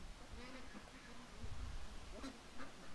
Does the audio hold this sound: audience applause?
no